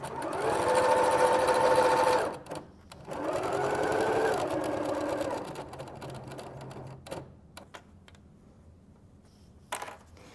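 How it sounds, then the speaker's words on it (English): A sewing machine stitches quilt fabric in two loud, steady whirring runs with a pitch shift on the back stitch, then stops, leaving a few scattered mechanical clicks and handling noises. "When I get to that 1/4, that is where I'm going to do a little bit of back stitching so it's nice and secure."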